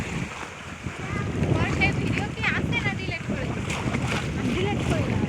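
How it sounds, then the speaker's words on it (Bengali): Strong storm wind buffets the microphone over choppy river waves, a continuous loud roar and wash with a voice talking intermittently over it. "এত বাতাস আর ঢেউ"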